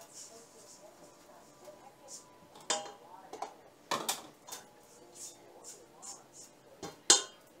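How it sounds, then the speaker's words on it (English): Bread dough ingredients being mixed with flour in a bowl, with scattered knocks, clinks and scrapes of a utensil against the bowl, faint and uneven, with a couple of louder clatters. "Mix this up."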